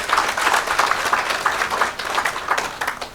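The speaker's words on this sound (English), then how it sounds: "let's just clap for ourselves for our commitment." An audience claps together at a nursing sciences alumni chapter launch at the Nairobi Safari Club, a room full of hands clapping steadily and fairly close, with no talk over it.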